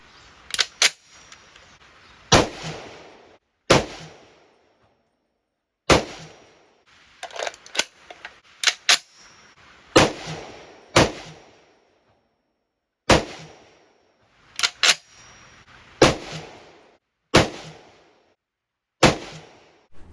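M1A/M14 rifle fired at an outdoor shooting range: sharp, loud single shots spaced irregularly a second or two apart, each with a brief echoing tail, about a dozen and a half reports with no talking.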